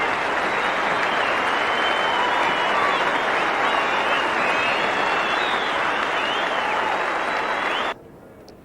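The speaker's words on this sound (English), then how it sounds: "Greg Chappell cheered all the way up to the middle" A large cricket crowd at a 1984 Australia v Pakistan test match cheers and applauds Greg Chappell, a dense, steady roar of clapping that holds for about eight seconds and then cuts off abruptly.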